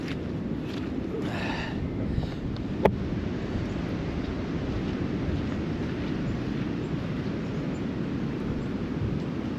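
Strong wind blowing outdoors, a steady low roaring rumble with microphone buffeting, constant and fairly loud, with one brief sharp knock partway through.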